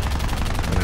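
Machine gun fire from a CR.32 biplane in War Thunder air arcade, a short loud continuous burst of rapid rattling shots filling the whole moment.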